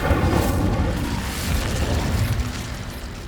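An Incendio fire spell cast in Hogwarts Legacy, a loud roaring whoosh of flame with a booming low rumble that sustains and slowly fades over a few seconds.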